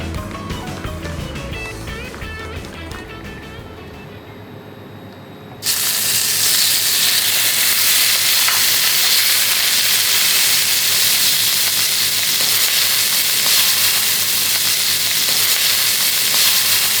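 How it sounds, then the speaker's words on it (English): A rice and egg mixture fries in a wok for egg fried rice, giving a loud, dense, continuous sizzle. It cuts in abruptly after several seconds of music and holds strong and steady to the end. "Or you could soak the rice in eggs and fry the mixture together."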